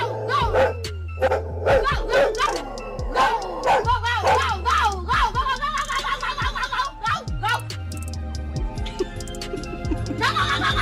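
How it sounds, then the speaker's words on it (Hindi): A dog tied up inside a house barks loudly and repeatedly in quick, insistent bursts, sometimes yipping and whimpering, close by and continuous throughout. "घर के अंदर बंधा ये डॉग इन्हें देखकर बड़े ही जोरों से भौंकने लगता है।"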